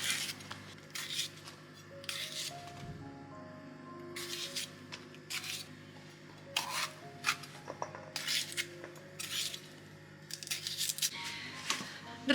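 Bell peppers being sliced into wedges with a knife in a home kitchen while making lecho. Short crisp cutting strokes come in irregular bursts over faint kitchen background noise.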